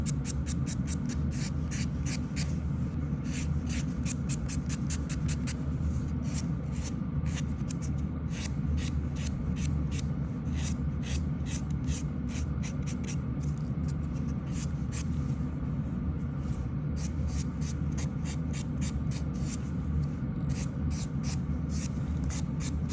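Nail file smoothing the free edge of a fingernail, a rapid regular run of short scratchy rasping strokes, close and soft, continuing steadily with brief pauses and no talk.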